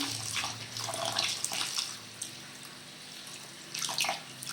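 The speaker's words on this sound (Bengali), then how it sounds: "ধুয়ে দিই ভিজিয়ে একটু গোবিন্দভোগ চাল বেশি ধুতে হয় না একবার ধুলেই হয়ে যাবে" Gobindobhog rice being washed in water, with bursts of splashing and sloshing, swirling water and a quieter stretch between, close and moderately loud.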